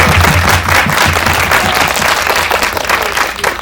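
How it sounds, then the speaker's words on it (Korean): Audience at a post-screening talk with the filmmakers of an indie film applauds loudly and steadily, a dense wash of many hands clapping that fills the room without pause. "저기 생각하시는 분들은 박수로 한번 좀 주세요."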